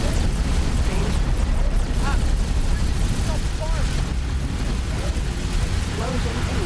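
Missile explosions and weapon fire in the space game X4: Foundations form a loud, continuous wall of rumbling blasts and crackle, with faint voice-like tones drifting through the din.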